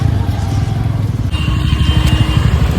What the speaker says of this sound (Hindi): आज तो पूरा ट्रैफिक जाम हो गया है